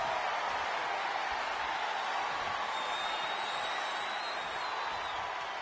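An arena crowd in WWE 2K25, set in Pontiac, Michigan, makes a steady, even roar that holds without a break, like distant hissing ambience.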